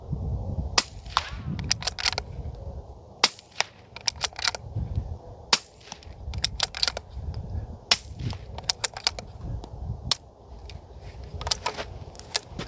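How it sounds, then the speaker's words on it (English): Suppressed subsonic .22 rifle fired from a bolt-action at a rock target on an outdoor range, giving many sharp, dry cracks in irregular succession, with quieter mechanical clicks from working the bolt between shots. "Subsonic 22 in a bolt gun with a suppressor."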